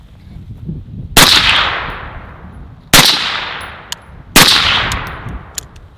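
Three loud, close suppressed rifle shots from an 11.5-inch rifle fitted with a full-sized Surefire SOCOM RC2 suppressor, each a sharp crack trailing into a long ringing decay outdoors, spaced a second or two apart.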